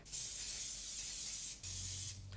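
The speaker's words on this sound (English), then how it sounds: "giving it a really good spray with some non-stick spray" Two bursts of non-stick cooking spray hissing close up onto a waffle maker, a long one followed by a shorter one after a brief pause.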